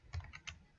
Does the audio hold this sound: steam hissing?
no